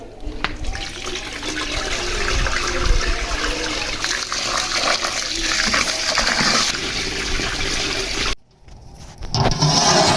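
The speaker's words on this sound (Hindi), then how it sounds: "अब पानी एहतियात से निकाल लेना है।" Water from soaked chickpeas is poured off into a sink during washing, a steady splashing, gushing flow that runs close and loud for several seconds, breaks off briefly, then starts again.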